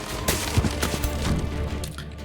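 Cannon fire in the fantasy strategy game Age of Wonders 4, a rapid cluster of booming blasts and crackling impacts that keeps going at a fairly steady volume for a couple of seconds.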